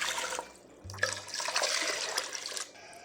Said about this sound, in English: And we add 8 cups of water.